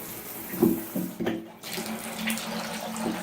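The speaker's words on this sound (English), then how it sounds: "that's water that's still in the tub spout" Water trickles and splashes from a shower tub spout onto the tub below, a steady close running sound with a few louder drips and splashes.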